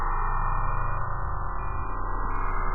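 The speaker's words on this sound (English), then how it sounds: "Here's the sound of a cancer cell." Sonified acoustic vibrations of a cancer cell form a dense, steady electronic drone of layered tones, continuous and loud throughout with slight flickering shifts in the lower layers.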